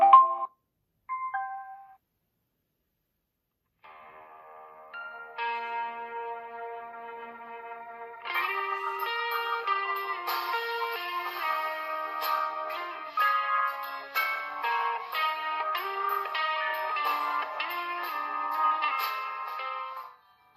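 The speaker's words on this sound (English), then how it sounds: "let's connect it to Bluetooth and listen this music coming from the speaker itself" Music with chiming, bell-like tones plays through a small Bluetooth smart light speaker, thin and bass-free, starting sparse with a few notes and then building into a fuller, steady melody at moderate volume.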